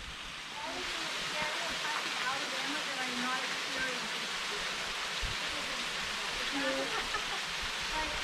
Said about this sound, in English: So here's the waterfall near the top of the McKay Hollow Trail